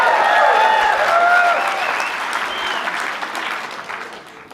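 Keynote audience at the 2015 ASU GSV Summit applauding in a large hall, a dense wash of clapping that starts strong and gradually tapers off over several seconds.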